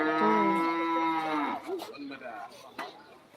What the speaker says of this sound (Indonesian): Ini kita lagi pemotongan sapi kurban